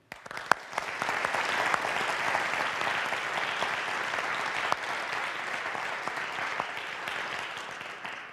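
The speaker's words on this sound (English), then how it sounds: "let's have a round of applause for our advancement division" Audience applause, a sustained wash of many hands clapping at a steady level throughout, fairly distant with occasional sharper claps standing out.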